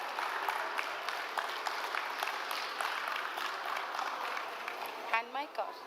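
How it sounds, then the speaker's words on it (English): An audience at an interior design fellowship meet of the IIID Hyderabad Regional Chapter gives a sustained round of applause, a dense patter of many hands held at a steady level, with a voice starting to speak as it winds down. "a huge round of applause for ma'am"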